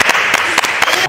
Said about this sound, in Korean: 우리 방이동 드롭바님과 앞잡이님 우리 박수로 모셔볼게요.